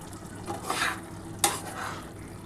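Lid lifted off a pot of potato and poppy-seed curry with cauliflower stems on low gas, a soft metallic scrape followed by a sharp clink, with gentle sizzling underneath.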